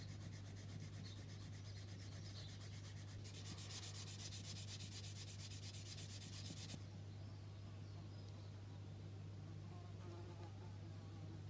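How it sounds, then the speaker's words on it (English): Close, quiet rubbing strokes of sanding as the seam is cleaned up on the intake of a Tamiya 1/32 Mosquito plastic model, a steady scratchy texture over a constant low electrical hum. "Clean up the seam on the intake here now."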